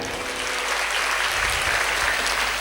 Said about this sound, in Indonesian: Tepuk tangannya yang lebih meriah.